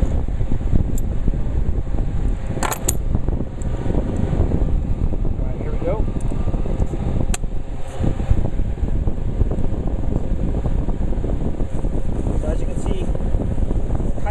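Electric fan blowing steady air during a test of REI storm-proof matches, a constant broadband rush of wind noise across the whole stretch with occasional brief clicks, under intermittent talk.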